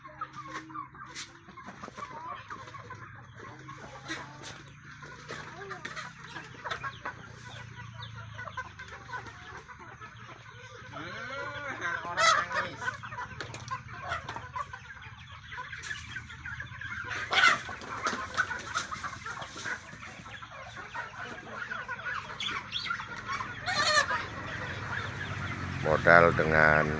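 Chickens clucking on a poultry farm, many birds close and far giving overlapping clucks and squawks throughout, busier toward the end, with faint talk in the background.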